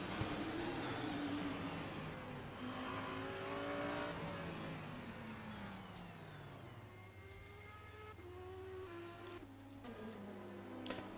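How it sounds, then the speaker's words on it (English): Aston Martin GT3 race car number 89 lapping Laguna Seca in rFactor 2 during a warm-up session: a sim engine revving up through the gears and falling away, with rising and dropping pitch sweeps and a steady low drone, no talk. "You can see Aston Martin who's doing some laps in the warm-up session."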